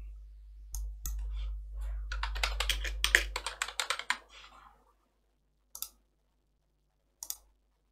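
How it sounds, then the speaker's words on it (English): Rapid, close keyboard typing runs in a dense burst of clicks for several seconds, then stops, followed by two separate single key taps after a pause. "Let me just type this in."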